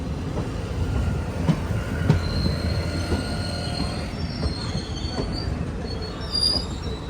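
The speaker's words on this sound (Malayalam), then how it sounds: "ട്രെയിൻ ഇപ്പോൾ എടപ്പാളയം റെയിൽവേ സ്റ്റേഷനിലേക്ക് എത്തിയിരിക്കുകയാണ്." The Madurai–Guruvayur Express rolls into Edappalayam station, its wheels squealing in high, drawn-out tones over a steady rumble and scattered rail clicks, loud and close.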